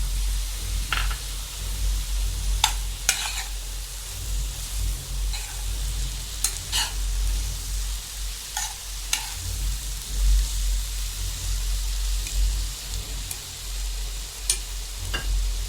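Potatoes with salt fry and are stirred in a pan for a samosa filling: a continuous sizzle over a low hum, broken by repeated sharp scraping clicks of the utensil at irregular intervals, close up with no talking.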